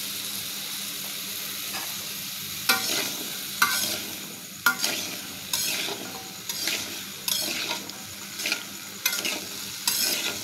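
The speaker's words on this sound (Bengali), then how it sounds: "আলুগুলো ভাজা হতে থাক," Thick-cut potato pieces with salt and turmeric sizzle in a pan, a steady frying hiss broken by repeated sharp scrapes and clinks of a spatula stirring them, close and fairly loud.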